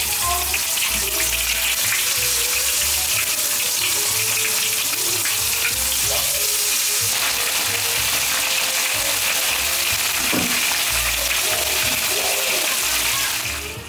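Battered tempura pieces, including apple, deep-fry in a home kitchen wok, giving a steady, dense, loud sizzle and crackle of bubbling oil that runs the whole time, with a voice talking faintly underneath.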